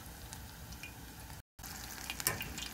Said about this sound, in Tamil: இப்போது நல்லா ஃப்ரை ஆகிடுச்சு காலிஃப்ளவர் 65 வெளியில் எடுத்துடலாம்